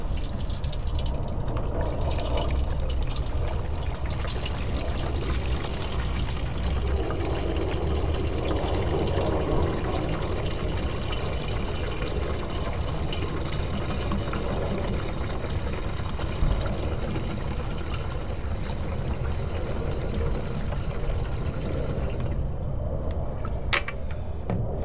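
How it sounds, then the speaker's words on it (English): Gasoline is poured into a no-spill gas can to mix fuel for a 2-cycle engine. It makes a steady, continuous liquid gush close by that runs unbroken, with no talk. "we'll put in about half a gallon of gas"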